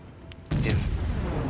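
A naval warship video game sounds a single heavy gun blast that lands abruptly and rolls into a sustained rumbling boom, loud and close, preceded by a brief faint click.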